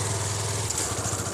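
Yamaha FZ motorcycle engine running steadily through its exhaust muffler, a continuous low throbbing drone at close range with no talk.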